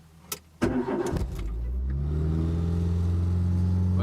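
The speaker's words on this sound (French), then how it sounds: "Voilà, le moteur il part en sur-régime." A 1997 Renault Twingo engine starts with a sharp catch and then surges into a loud, steady high idle, racing on its own and holding a sustained revving drone close by, with no talking.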